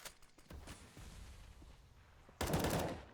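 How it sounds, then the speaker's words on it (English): Gunfire in Counter-Strike on the map Train: an AK rifle sprayed in a short, dense automatic burst near the end, preceded by a few scattered single shots over low game ambience. "Oh, Keveh sprays him down"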